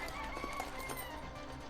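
A chicken in the video game Arc Raiders clucks softly in a short, faint run of calls over a steady in-game ambient bed.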